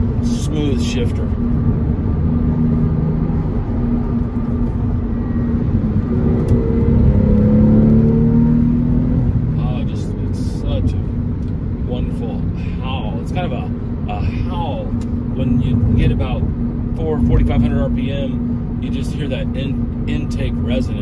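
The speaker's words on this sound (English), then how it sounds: "Intake resonance, and it just makes such a beautiful sound." A 2002 Porsche 911 Carrera with a six-speed manual accelerates under way, its engine droning and rising in pitch with intake resonance, while someone talks over the cabin hum.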